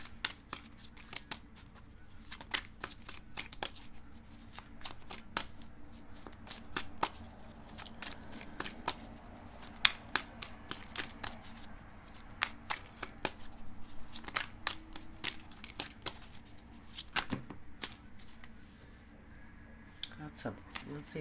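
Tarot cards shuffled close up, a long run of crisp riffling and slapping bursts at an irregular rhythm, with faint talk and room noise underneath.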